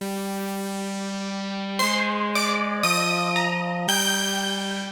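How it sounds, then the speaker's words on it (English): A keyboard synth part for a song's chorus sounds alone: a long held tone, then a run of rhythmic bright chord stabs over a sustained low note, clean and moderately loud. "Now during the chorus, I believe I'm doing this synth as well"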